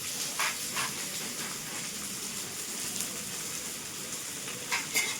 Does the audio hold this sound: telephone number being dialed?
no